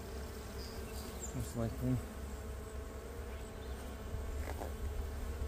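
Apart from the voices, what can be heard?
honeybees buzzing in an open hive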